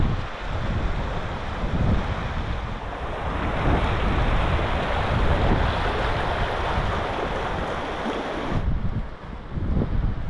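Strong, cold wind blows steadily beside a river in Yumthang Valley, North Sikkim, a dense roaring rush that buffets the microphone throughout, with no one speaking.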